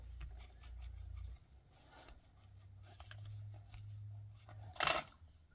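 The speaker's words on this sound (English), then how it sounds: "gonna rub my bone folder a little bit more" Bone folder rubbing down glued paper, soft scraping strokes under a low intermittent hum, ending in a brief louder rustling scrape.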